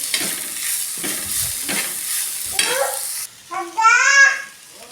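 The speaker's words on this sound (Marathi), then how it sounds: "हे सगळं मिश्रण असं एकत्रित एक जीव करायचे" Grated potato mixture being stirred and pressed around a pan with a spatula, soft scraping strokes over a faint sizzle, followed by a few brief high, squeaky sounds near the end.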